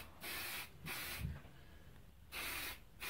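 Three short hissing bursts of a spray can, separated by brief pauses, fairly faint and close up.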